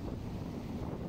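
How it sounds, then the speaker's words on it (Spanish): Sea waves and a breeze on a beach, heard as a steady close wash of surf and wind rumble with no pauses. "Escucha el sonido de las olas, el sonido de la brisa."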